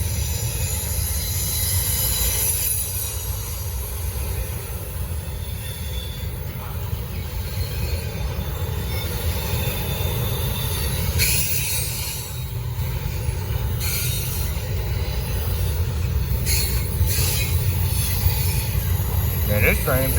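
A long Norfolk Southern freight train rolls steadily past on the Charlotte District, its wheels squealing in high drawn-out bursts over a constant rumble of cars, loud and close throughout.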